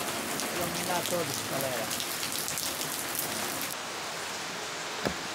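Rain pours steadily on a night evening, a dense, even hiss with a few brief voices heard over it, continuing unbroken throughout.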